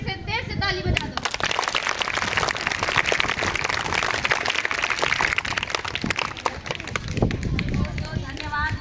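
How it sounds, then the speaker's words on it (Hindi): An audience of children claps continuously, dense and loud, for several seconds. A voice speaks at the start. "इन सब के लिए एक बार फिर से देर से ताली बजा दो।"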